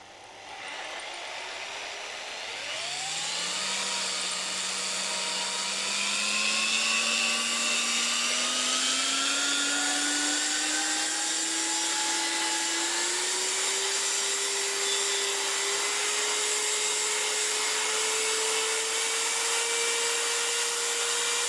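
An electric drill whirs up to speed, its motor whine climbing gradually in pitch and holding a loud, continuous drone.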